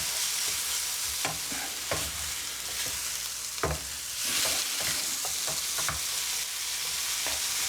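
Chicken pieces fry in oil in a pan over medium heat, a continuous sizzle broken by repeated scraping stir strokes, close and moderately loud, with no talking.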